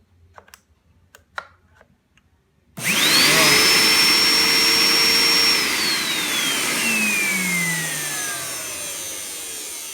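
A vacuum cleaner with a broken connection inside its power wire: a few light taps and clicks, then the motor abruptly kicks on with a loud, close whine that holds steady before its pitch sags slightly as it keeps running.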